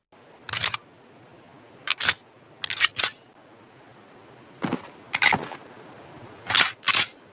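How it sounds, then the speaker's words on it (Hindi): Sharp mechanical clicks and clacks of a gun being reloaded in PUBG Mobile come in pairs and small clusters with pauses between, crisp and close with no talking. "तो जब रीलोड करता है कुछ ऐसी साउंड आती है।"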